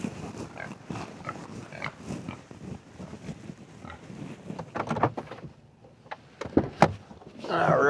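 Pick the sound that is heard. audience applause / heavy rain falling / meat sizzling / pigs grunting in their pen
pigs grunting in their pen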